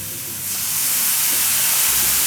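Mushrooms stir-fried with a splash of soy sauce in a pan for japchae give off a steady, close sizzling hiss that swells slightly and holds, with no voices.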